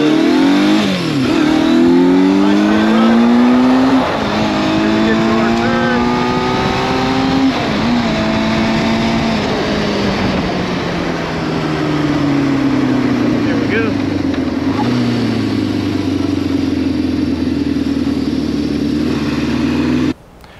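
A Honda CB550K motorcycle engine fitted with a Mikuni carb kit runs loud and close, revving up and down in several swells before settling to a steady idle.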